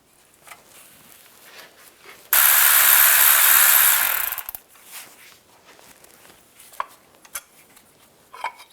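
A socket wrench spins out a bolt on a 2005-2007 Ford Five Hundred engine, a loud continuous whirring burst lasting about two seconds, followed by faint clicks and handling noises.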